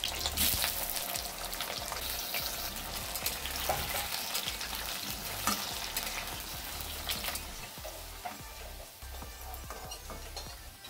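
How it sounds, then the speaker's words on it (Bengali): Half-boiled taro pieces sizzle and crackle in hot mustard oil in a kadai, a busy steady frying hiss with occasional stirring scrapes, close and unbroken. "হালকা করে ভেজে নেব।"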